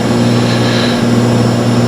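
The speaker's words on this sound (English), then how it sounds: "This plane's pretty loud." A propeller aircraft's engine in the X-Plane flight simulator drones loud and steady, a constant close hum with a low tonal pitch that holds for the whole moment.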